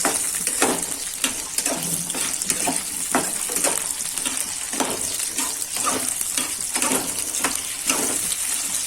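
Cut gunda are stir-fried in a pan on a low gas flame, giving a continuous sizzle with frequent rhythmic scraping strokes of a spoon against the pan, close and fairly loud, with no talk.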